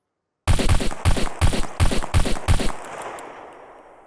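A low-durability gun fired in the survival game Scum: six evenly spaced, loud, close shots in a steady rhythm, then a lingering echo tail fading into quiet.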